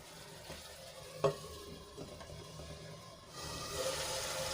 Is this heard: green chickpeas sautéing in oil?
yes